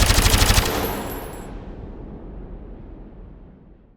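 Rapid automatic rifle fire in an Unreal shooter game, implemented in Wwise, hammers out about eight close, loud shots over half a second. A long indoor reverb wash then rings on and slowly dies away.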